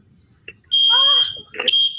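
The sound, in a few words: alarm going off in a played video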